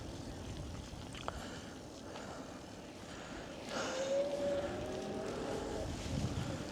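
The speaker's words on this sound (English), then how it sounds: "I'm taking the drone up." A camera drone lifts off outdoors, its thin motor whine rising in pitch partway through and swelling over faint wind and background rumble, fairly distant and quiet.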